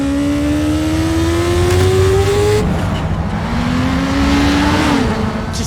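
A 4x4 car accelerating hard during a chase, the engine droning loudly and rising in pitch with a steady roar throughout.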